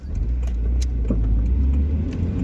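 An AWD-swapped Honda Civic with a new clutch drives and accelerates, its engine a steady low rumble throughout with faint interior rattles on top.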